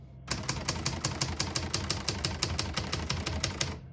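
Keys strike in a fast, even run on a 1967 Hermes 3000 portable typewriter, about twenty sharp clacks over a few seconds, close and crisp, with no talking.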